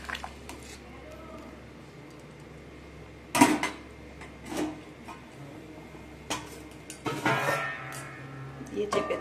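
A spatula stirring food in a pot, with a few separate scraping and squishing strokes against the metal, close by, between stretches of talk.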